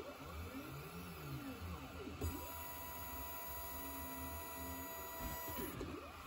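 A DIY laser cutter cuts a wing rib at full power, with its motors whining and sweeping in pitch as the head moves. A steady hum and a high fan tone run underneath, and a voice talks faintly.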